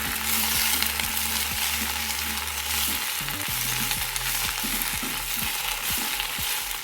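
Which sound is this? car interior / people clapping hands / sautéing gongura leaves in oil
sautéing gongura leaves in oil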